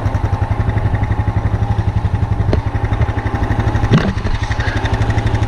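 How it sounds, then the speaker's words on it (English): Honda Rubicon four-wheeler plowing a snowy driveway, its engine chugging steadily and loud at close range, with a few brief clanks from the plow partway through. "Yeah, I love having the four-wheeler. It makes it so much easier."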